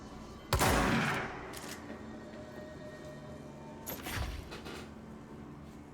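Shotgun blasts in the video game Control: two sharp, loud reports a few seconds apart, each with a short decaying tail, over a quiet ambient background.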